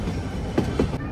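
The Ooty toy train rumbles along the track with a steady low roll and a couple of sharper rail knocks near the end, close and continuous.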